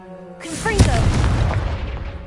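A Confringo spell detonates in Hogwarts Legacy: a sharp explosive boom bursts out over a low ambient game hum, then a dense, rumbling blast tail rolls on for about two seconds.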